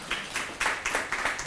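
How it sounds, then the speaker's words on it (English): Brief, light applause for a panel of speakers at a community discussion event, a few scattered handclaps at moderate distance over a second or two. "Round of applause for them, please."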